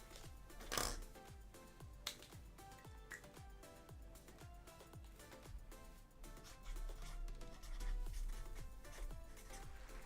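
Sports trading cards are shuffled by hand in a quiet room, giving a run of soft, rapid riffles and flutters, one louder burst near the start, then a steady papery shuffle.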